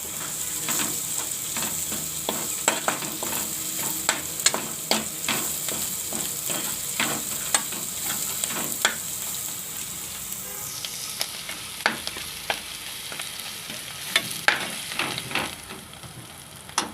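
Cabbage kofta gravy in a pan with coriander-cumin powder, garam masala and fresh coriander being mixed in, a steady sizzle broken by quick, repeated scrapes and taps of a spoon against the pan, nearby and without speech.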